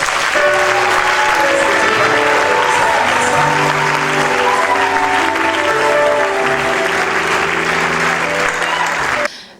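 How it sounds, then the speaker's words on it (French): A church congregation at a convention in Bafoussam breaks into loud, sustained applause and cheering that fills the space for about nine seconds before cutting off abruptly, with voices and music tones mixed into the crowd noise. "Est-ce que tu peux acclamer le Seigneur?"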